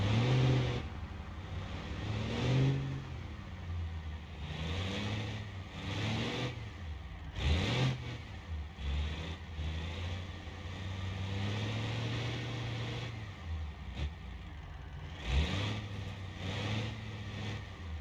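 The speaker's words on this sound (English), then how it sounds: "Starting the engine again would help." A crawler truck's engine in BeamNG.drive revs and labours in uneven bursts, rising and falling as throttle is fed in and lifted, loud and close with no talk over it.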